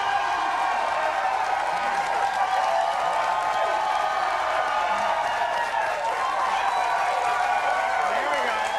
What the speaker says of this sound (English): Come on, standing ovation again.